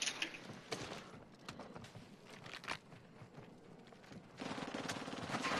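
Rapid bursts of gunfire from a video game, with scattered shots early on and a denser stretch of firing toward the end, moderately loud with no talk over it.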